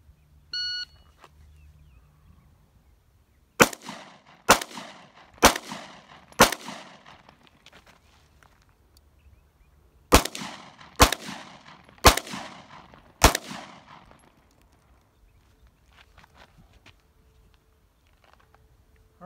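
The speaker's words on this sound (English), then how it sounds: "Draw and fire 4 rounds standing, kneeling 4 rounds." Handgun shots fired on an FBI pistol qualification course at 25 yards: two quick groups of four sharp, loud cracks, one standing and one kneeling, spaced about a second apart with a pause between groups and brief echo tails.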